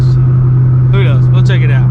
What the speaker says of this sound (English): if I can make it happen when we go to accelerate like first gear down here